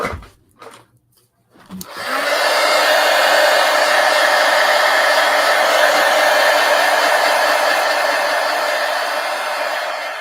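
A hair dryer blows steadily to dry a collage mask craft project, starting after a brief quiet moment with some small handling noises, then running loud and constant and close for the rest of the clip.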